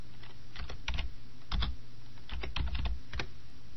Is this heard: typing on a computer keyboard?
yes